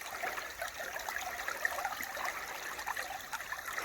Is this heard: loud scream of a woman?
no